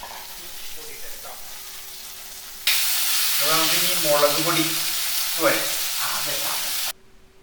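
Tomato and capsicum hit a hot pan and fry with a loud, sustained sizzle that starts abruptly and cuts off near the end, with a voice talking over the frying.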